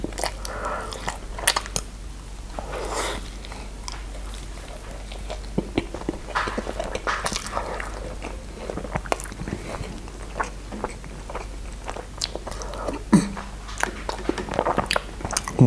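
Close, wet mukbang chewing of syrniki with sliced banana, steady bites and squishy crunches repeating throughout at moderate loudness, with faint background hum and no speech.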